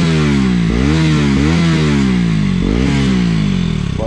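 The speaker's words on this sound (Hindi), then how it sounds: "तो भाई एग्जॉस्ट की साउंड सुनाता हूँ एक बार" A KTM Duke 200 BS6 motorcycle engine revs loudly and repeatedly with its muffler removed, a raw exhaust, the pitch rising and falling in several throttle blips.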